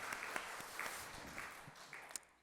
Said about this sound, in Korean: 우리 수관 우리 찬양팀 성가대 우리 하나님께 박수 함께 올려드리겠습니다